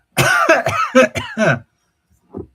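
A person coughs in a rapid cluster of about five harsh bursts up close, then a brief pause before one softer, short cough or throat clear; the person is slightly unwell and sipping tea.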